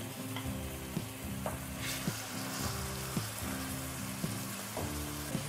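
Chopped onion and tomatoes sizzle in a hot pan, a steady frying hiss broken by regular scraping stirs of a spoon, close up with no talking.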